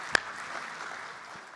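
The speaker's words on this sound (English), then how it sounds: "can we have a round of applause for our judges, please?" A conference audience at an AI startup pitch event claps for the judges, giving a soft, diffuse patter of distant applause that opens with one sharp clap before fading gradually.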